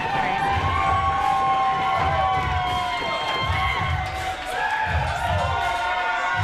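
Noisy crowd at a wrestling show in Herman's Hideaway, a steady wash of cheers and yells with voices rising and falling, and a loud voice carrying over the din.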